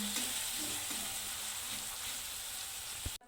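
Finely chopped onion sizzles steadily in hot oil while it is stirred, a dense, even crackle that stays constant until it stops abruptly near the end.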